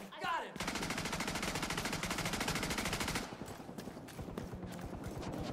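Enemy gunfire erupts in The Division 2: a loud, continuous automatic burst lasting about three seconds, followed by scattered single shots and quieter firing further off.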